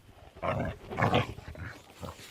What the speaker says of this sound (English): Meet Miley, a 7-month-old Huntaway.